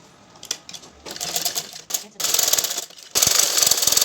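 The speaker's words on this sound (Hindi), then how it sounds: "यहाँ से गोलाई की तरफ इसको रख के और इसको सिलाई करना है।" A sewing machine stitches a curved strip for a 42-inch blouse, its rapid mechanical chatter starting in short bursts, then running in longer, louder steady spells close by.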